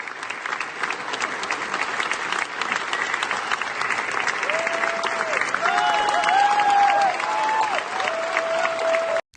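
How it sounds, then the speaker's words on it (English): Sustained applause fills a parliament chamber for the president of Ukraine, a dense steady clatter of many hands clapping, loud and continuous, with faint tonal sounds appearing midway. "give a half-hearted round of applause for the president of Ukraine"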